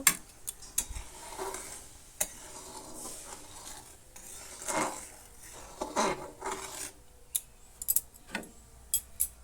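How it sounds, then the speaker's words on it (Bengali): A spoon stirs lentil dal with salt and sugar in a pot. Quiet, close scraping and rubbing strokes come in irregular bursts, with light metallic taps between them. "নুন আর চিনি দিয়ে ভালো করে আমি মিশিয়ে নেব"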